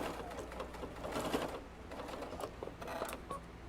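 Sewing machine stitching layered puff quilt fabric held with pins, a steady close mechanical whirr with faint clicking over continuous motor hum, no talk.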